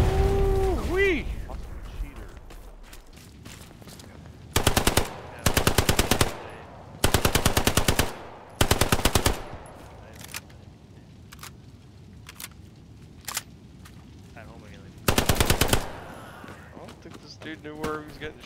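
Gunfire in the Hell Let Loose World War II shooter: repeated loud bursts of automatic fire come in clusters several seconds apart, with scattered single shots and movement noise between them, and someone talks over parts of it.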